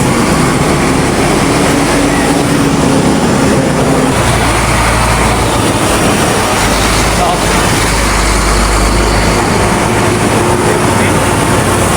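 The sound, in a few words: truck driving behind on road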